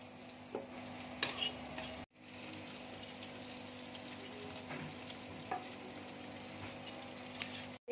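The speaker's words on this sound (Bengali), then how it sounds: "এবার আমি ধনে দিয়ে দিচ্ছি, এগুলো শুকনো কড়াই আমি নেড়ে নেব" Coriander seeds with cumin, mace, cinnamon, dried chillies and cardamom dry-roasting in a hot, oil-free kadai, a steady faint rustle and scrape of stirring with scattered ticks and clinks, close and without speech.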